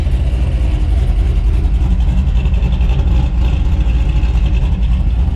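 A loud C5 Corvette engine with an aftermarket cam rumbles close by with a lopey, choppy idle and slight revving, constant throughout without speech.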